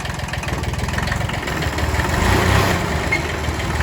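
A Kubota B6100 compact tractor runs with a bad clutch pilot bushing, a steady, fairly loud rumbling engine drone with a faint rhythmic chatter that swells slightly partway through.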